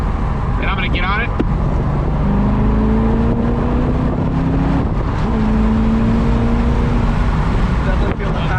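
A Corvette with a six-speed gearbox pulls hard in third gear, its engine note climbing steadily under loud wind and road roar, with a brief voice near the start.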